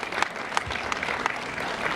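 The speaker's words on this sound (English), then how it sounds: "So, all right, you can clap on that." An audience at a mayor's senior summit applauds with dense, steady clapping throughout the short burst, fairly close, with no voices over it.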